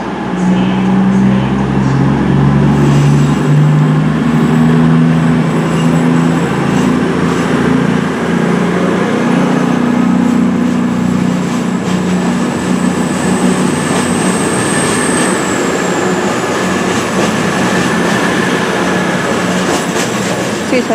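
A cross-country passenger train departs Plymouth station, its engine throbbing loud and near with low droning tones that shift as it pulls away, and a faint wheel squeal rises over the steady rumble.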